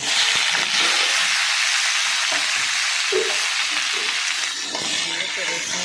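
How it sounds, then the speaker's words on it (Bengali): Chopped mixed vegetables, including ash gourd and stems, sizzle loudly in hot oil tempered with dried chilli and panch phoron, a steady broadband frying hiss with occasional stirring knocks throughout. "তেলের উপরে শুকনো লঙ্কার পাঁচফোড়নটা দিয়ে দিলাম ফোড়ন কিন্তু পাঁচফোড়ন কিন্তু ভাজা ভাজা হয়ে গেছে এবারে কেটে রাখা সবজিগুলো আমি দিয়ে দিচ্ছি"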